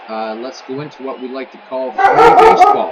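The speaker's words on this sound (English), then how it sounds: "one of my dogs barking for whatever reason" A pet dog barks in a burst of several loud, close yips near the end, following a man's speech over a 1949 Braves–Dodgers APBA Baseball for Windows game.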